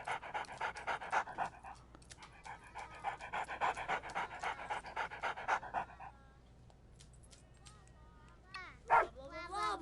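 Dog panting and barking in the VR game Good Dog, Bad Dog, with rhythmic close panting bursts for the first six seconds, then quieter sounds and a sharp yip near the end, under some background game noise.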